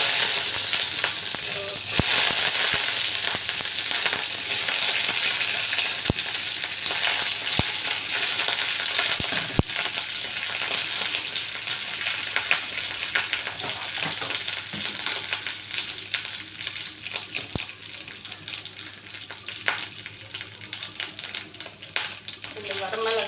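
Garlic sizzles and crackles steadily in a pan, a dense hiss with scattered pops and occasional stirring knocks. It stays loud and continuous throughout.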